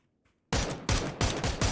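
M249 and MK12 gunfire in PUBG: after a brief quiet moment, a sudden, loud, sustained barrage of shots rolls on in dense overlapping waves until the end.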